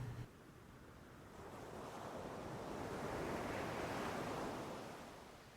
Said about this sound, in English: the soft sounds of ocean waves